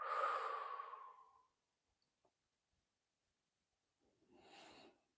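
Slow, deep breaths during a guided relaxation exercise: a long, soft exhale fades out over about a second and a half, then after a quiet pause a fresh breath rises, close and gentle.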